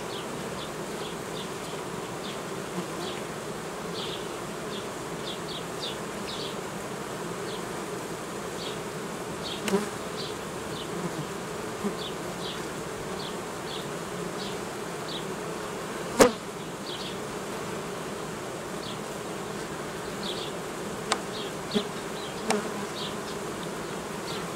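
Dense, continuous buzzing of many honeybees in an open nucleus hive, close and steady, with occasional light clicks and taps.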